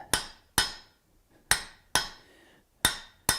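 A lighter hammer strikes metal in a workshop, six sharp ringing blows spaced irregularly, each decaying quickly into near silence, close and clear with no talk.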